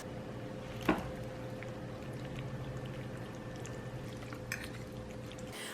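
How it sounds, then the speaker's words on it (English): Drained pasta pours into a pan of tomato sauce for a vegan tomato feta pasta, a soft, low wet slide and squish over a steady kitchen hum, quiet and close, with a small knock near the start. "I'm going to pour it into the sauce"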